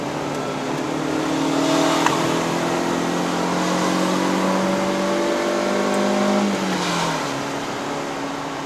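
A 2021 Proton Saga 1.3L five-speed manual's engine revs up steadily toward 6000 rpm on an uphill climb to Genting, its pitch climbing for several seconds before dropping off, heard from inside the car.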